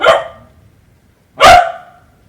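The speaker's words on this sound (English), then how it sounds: "we're going to get another one of these and listen to them bark" Two loud, close barks from a tamed creature in the video game ARK: Survival Ascended on the Genesis map, each a sharp doglike bark, spaced about a second and a half apart with quiet between them.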